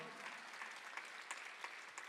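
A church congregation applauds during a Sunday afternoon service, with steady, even clapping heard faintly from across the room and no talk over it.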